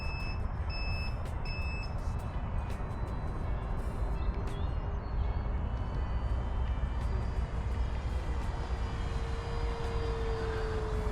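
An FMS Corsair F4U 1700mm electric RC model airplane flies at high throttle, giving a steady, continuous whirring drone that stays loud and even throughout, with faint high tones above it.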